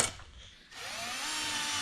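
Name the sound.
drill pre-drilling holes in bridge decking boards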